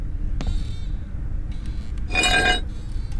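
A crowbar picked up in a horror game set in a creepy village gives a short metallic clink early on, then a brighter ringing metal clatter a moment later over quiet low ambience.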